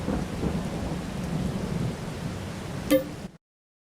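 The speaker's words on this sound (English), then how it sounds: "I think we've got rain for another 40 minutes." Steady rain hisses in Farming Simulator 22, with a sharp, close thunder crack near the end before the sound cuts to silence.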